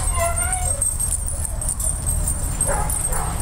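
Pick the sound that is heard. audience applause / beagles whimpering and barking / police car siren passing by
beagles whimpering and barking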